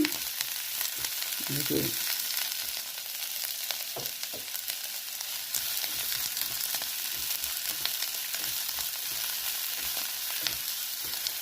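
Thinly sliced capsicum fries in a pan with a steady, close crackling sizzle, broken by a few stirring knocks early on.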